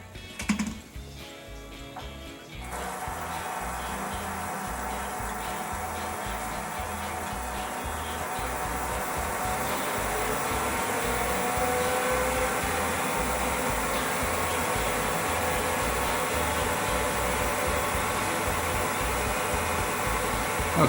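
A machine spins a log at about 520 RPM, producing a steady, smooth whirring drone that starts after a brief quieter moment and then holds an even, continuous hum.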